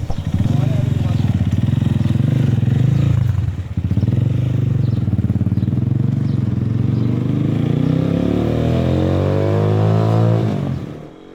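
Super Power Leo SP-200 motorcycle ridden on the road, its loud, steady engine drone running continuously close to the microphone, with one brief dip in the middle and a fade at the end.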